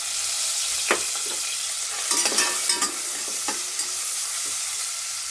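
Spices and turmeric powder frying in oil for pudina chicken sizzle steadily and up close, broken by several sharp scraping stirs of a spoon against the pan, with no one talking.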